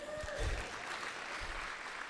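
Audience applause at a school's 75th anniversary celebration, a brief, faint patter of clapping in a hall with little else heard.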